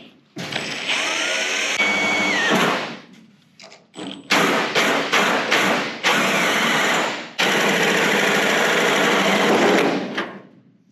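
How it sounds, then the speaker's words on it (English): A power tool cutting a hole in the rusty trunk metal of a 1971 Mustang, loud close whining bursts that start and stop several times with short pauses, then a long steady cut. "Let's cut the hole."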